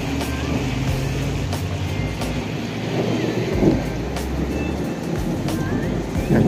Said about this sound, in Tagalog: Yun, kumukulog.